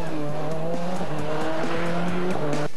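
A 2003 Subaru Impreza rally car at the Monte-Carlo Rally drives hard nearby, its engine droning loudly and steadily with repeated quick gear-change dips before cutting off abruptly.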